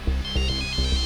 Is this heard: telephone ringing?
yes